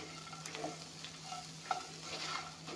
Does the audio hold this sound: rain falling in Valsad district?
no